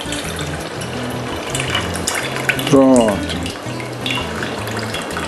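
Running tap water splashes steadily over mushrooms being rinsed in a kitchen sink while preparing a beef and mushroom risotto, a continuous wash of water under brief speech, with a short clatter midway.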